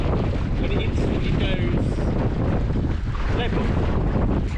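Gusty wind roars across the microphone aboard a small sailing dinghy on Lake Bala, loud and constant with water sloshing beneath and slight surges as gusts build.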